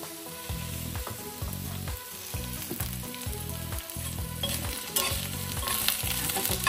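Onions frying in oil in a home kitchen during a traditional Nashik village dubuk wadi gravy, a steady close sizzle with rhythmic low thumps and clatter running throughout, no talking.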